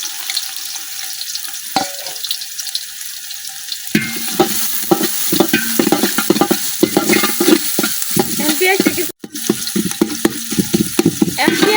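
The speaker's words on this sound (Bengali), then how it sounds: "পেঁয়াজটা কিছুক্ষণ ভাজা নেব।" Onions frying in oil in a home kitchen while chicken is being prepared for a Bengali dish: a steady close sizzle with a soft background hiss, then louder crackling and repeated stirring scrapes from about four seconds on, with one brief dropout near the end.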